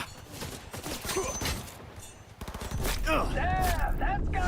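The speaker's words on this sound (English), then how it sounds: "Who are you people and why are you shooting at me?" Bursts of rapid automatic gunfire in Cyberpunk 2077 Phantom Liberty crackle loud and close, pausing briefly and then resuming in dense volleys, with game sound effects mixed in.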